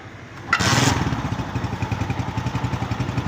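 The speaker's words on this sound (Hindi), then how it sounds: "अब मैं आपको स्टार्ट करके इसका साउंड सुनाता हूँ कि क्लच में कोई आवाज़ है या नहीं है" A 2017 Honda CG125 motorcycle, just back from clutch repair, starts with a sharp burst and then settles into a steady, evenly pulsing idle close by.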